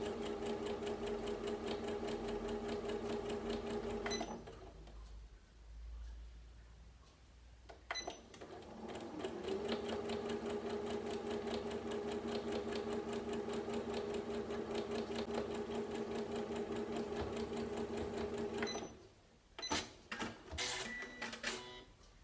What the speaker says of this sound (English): I'm using a regular straight stitch on the machine.